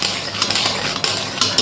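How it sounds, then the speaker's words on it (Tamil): Nuts being stirred into thick sugar syrup in a pan while making nut burfi, with steady scraping and light clinking of the spoon against the vessel, close and continuous. "அந்த ஸ்டேஜை வந்து இப்போ நம்ம நட்ஸ் எல்லாம் போட்டு நல்லா ஒரு கிண்டி கொண்டுடலாம்."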